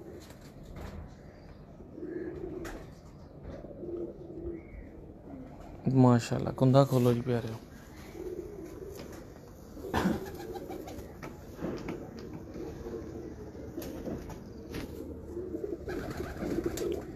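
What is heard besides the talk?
grey spotted pigeons cooing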